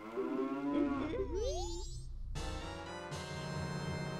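Cows in the video game Majora's Mask let out a series of low, drawn-out moos, clear and fairly close, layered with tonal game sound effects and no speech.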